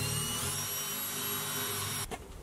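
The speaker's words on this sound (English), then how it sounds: "I'm actually just gonna start by drilling 4 pilot holes in the corners" A power drill bores a pilot hole into a campervan countertop, a steady high whine running close and loud for two seconds before cutting off abruptly.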